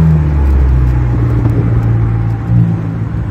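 A turbocharged Volkswagen Jetta GLI MK6 drives with a loud, steady low engine rumble and road roar, swelling slightly near the end.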